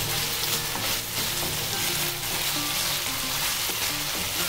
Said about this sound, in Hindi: हमें इसे फ्राई कर लेना है ऐसे ही।